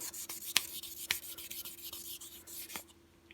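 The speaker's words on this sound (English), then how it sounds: "we're also going to do the handle too, because this is a very light sandpaper" Light sandpaper rubs across a burl wood handle in short, close, repeated strokes with a few sharper scratches, then fades quietly, with no talking.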